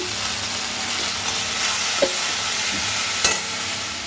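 Ground turmeric, cumin powder and salt going into a frying pan for a coconut-milk bata fish curry, giving a steady close sizzle and stirring scrape with a couple of sharp clinks of a spoon against the pan.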